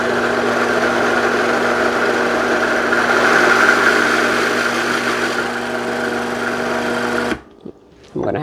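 Food processor grinding Oreo cookies into crumbs, giving a loud, steady whirring drone that runs continuously for several seconds before cutting off abruptly, followed by a brief clunk.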